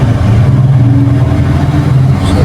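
A Caterpillar 777E haul truck's diesel engine revs steadily during a brake test, a loud, close, deep drone holding at high revs with the machine stationary.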